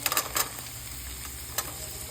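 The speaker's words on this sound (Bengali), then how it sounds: "এগুলো ভালো করে ভেজে নিচ্ছি" Vegetables for fried rice fry in a pan with a steady close sizzle, broken by a few quick scraping stirs near the start and one more later.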